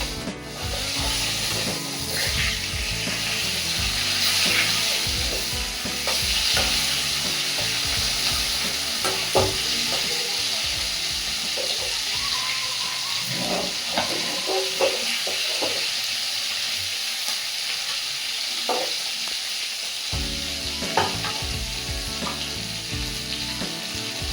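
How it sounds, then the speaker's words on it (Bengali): A rohu fish head fries in hot oil for a Bengali home-style fish curry, giving a steady close sizzle with repeated scraping and rubbing strokes from a spatula. No one speaks. "মাথা দেখে আমি ওইভাবে সুন্দর করে ভেজে নেবো খুব একটা কড়া করবো না"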